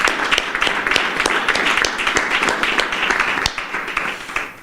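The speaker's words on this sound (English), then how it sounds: "just the initial responses definitely deserve a round of applause" Audience applause at a panel discussion on NEDLAC and policy making, a close, lively round of many hands with distinct sharp claps standing out, continuing steadily and tapering near the end.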